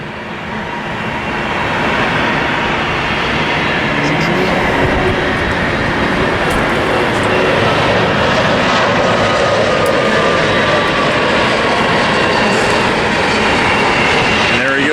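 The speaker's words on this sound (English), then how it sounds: "YouTube, there's another plane inbound." Alaska Airlines airliner flying in to land at San Diego, a loud, continuous jet roar that swells in the first seconds and then holds steady and close, with no talk over it.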